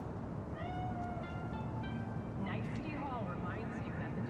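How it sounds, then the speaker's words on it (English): A cat meows several times in the video game Cyberpunk 2077, with short, thin, faint cries over a steady low ambient hum and a few rising and falling calls near the middle. "Chill. Just a cat."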